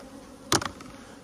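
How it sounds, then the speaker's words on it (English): Honeybees around an opened hive of a strong colony, heard as a brief burst of close buzzing with a couple of quick pulses in the middle, set against a faint, steady background hum. "Whoa, there's a lot of bees there."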